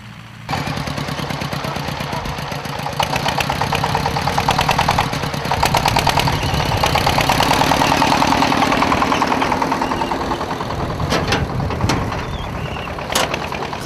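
A tractor engine runs in a potato field during harvest, a loud, steady mid-pitched drone that holds throughout with faint knocking and a few brief higher clicks near the end.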